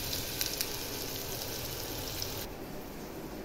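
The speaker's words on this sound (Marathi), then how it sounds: "चिरलेला कांदा आपला फोडणीला." Chopped onion sizzles in hot oil for tempering, a steady close hiss. The hiss drops slightly partway through.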